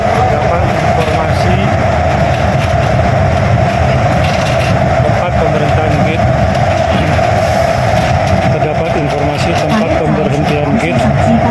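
An airport shuttle train runs between terminals in Japan with a constant loud rumble and rattle and faint clicking of the wheels, while muffled voices carry underneath.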